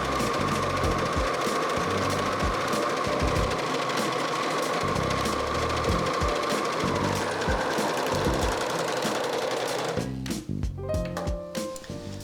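A sewing machine stitches a waistband onto a cropped cardigan, running as one steady, loud, continuous whir before stopping abruptly near the end, with a few lighter mechanical clicks after.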